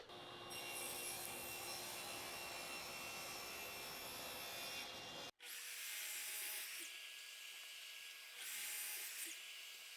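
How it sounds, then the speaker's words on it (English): A table saw ripping a wood board to 5-inch width for a router clamp jig, a loud sustained whining cut that breaks off abruptly, then resumes as a running blade with lighter rubbing passes. "So the table saw is already set up."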